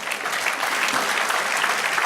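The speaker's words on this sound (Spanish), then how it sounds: "Denle otro aplauso al Señor." Sustained applause from a church congregation during a Sunday radio broadcast of a sermon, dense and steady throughout.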